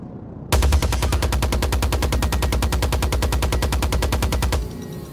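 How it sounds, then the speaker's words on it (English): A Gatling gun in a flight video game fires a rapid, steady stream of evenly spaced shots, loud and sustained for about four seconds before cutting off abruptly. "your Gatling gun starts firing immediately, as it's winding up, as it should be"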